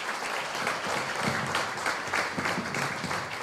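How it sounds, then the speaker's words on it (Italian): Sustained audience applause fills a conference hall at an aesthetic oncology convention, steady and dense clapping from many hands at moderate volume throughout, with no speech over it. "merita davvero un applauso"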